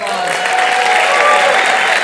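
Applause from an audience at a school athletics signing ceremony, a dense wash of clapping that swells slightly and holds steady for a moment, with faint crowd murmur mixed in.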